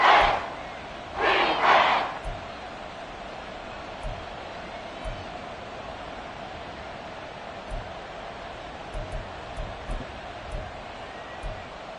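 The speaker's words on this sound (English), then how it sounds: "The Arrowhead crowd in full roar." A stadium crowd at Arrowhead roars in an American football video game, starting with loud bursts that settle into a steady broad wash of distant cheering with faint scattered taps.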